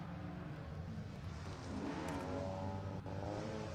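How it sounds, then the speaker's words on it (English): BMW rally cars accelerating on a tarmac rally stage in Wales, a steady engine roar that swells and holds at a distance, with no voices over it. "And here we have the BMWs."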